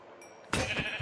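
A single sheep bleat from the Minecraft video game rings out loudly and alone in the second half after a quieter start.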